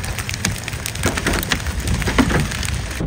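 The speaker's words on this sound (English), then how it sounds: "It's actually hailing right now." Hail pelts a street in Afghanistan, a dense, steady patter of sharp ice impacts and clatter, close and fairly loud throughout.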